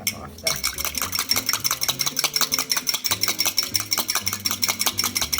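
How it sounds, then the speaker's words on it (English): A whisk beats rapidly against a bowl while olive oil is blended a tablespoon at a time into a salad dressing for a spiced chickpea, sundried tomato and spinach salad, giving a steady, fast metallic clatter throughout, close and fairly loud. "I'll just add the tablespoon and I'm going to give it a good whisk"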